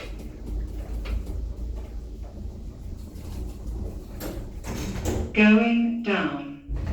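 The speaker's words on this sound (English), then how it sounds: "Doors closing." Doors of a ThyssenKrupp-modernized elevator at a Boots store in Belfast slide shut with a low mechanical rumble and a few knocks, and an automated voice announcement plays toward the end.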